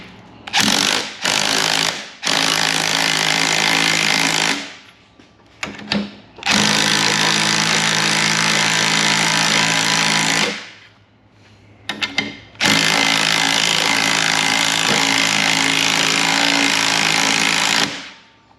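A power tool tightens nuts on GMC 1500 struts in a loud, close, rattling hammer. It runs in three long bursts of several seconds each, with short pauses and brief taps between them.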